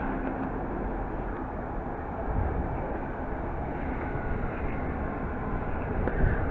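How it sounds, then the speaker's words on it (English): A London Underground Metropolitan line train rolling into a station: a broad, steady low rumble and roar of wheels and motors that swells slightly toward the end, fairly close, with no talk. "a London Underground Met Line service from Baker Street to Watford"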